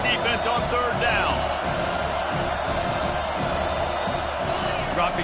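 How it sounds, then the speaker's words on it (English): Stadium crowd roaring in the NCAA 25 college football video game on a third-down defensive stand, a dense, loud, sustained wash of cheering while a commentator talks over it. "Decibels rising as the crowd gets behind this defense on third down."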